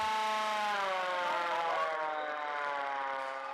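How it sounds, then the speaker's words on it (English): A loud wailing air-raid siren sounds continuously at Delhi's Indira Gandhi International Airport during a nationwide mock drill, its tone gently rising and falling. "Sirens were sounded at Delhi's Indira Gandhi International Airport"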